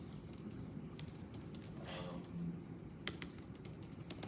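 Someone types commands on a computer keyboard, producing faint, irregular clusters of key clicks over a soft background hum.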